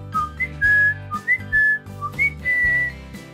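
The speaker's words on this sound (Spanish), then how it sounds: "Me permite silbar." A person whistles a short, bright tune of several sliding, melodic notes, clear and close with brief pauses between phrases.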